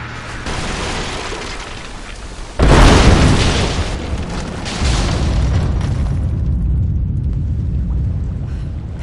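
Greek fire detonates in Rise of the Tomb Raider near an unstable statue, one loud close boom that rolls into a long roaring, crackling rumble, followed by a second swell of burning roar that slowly fades.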